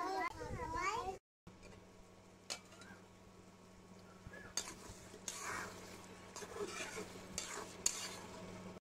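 Chicken meat is stir-fried in a pot, a continuous sizzle and frying hiss with occasional stirring scrapes and clinks, close by, while children's voices chatter in the background and a brief voice opens the scene.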